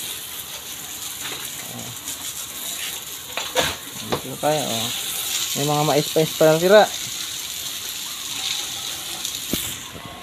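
Water sprays steadily from a hose fed by a motor pump onto pigs on a backyard farm, a continuous hiss with a person talking briefly over it.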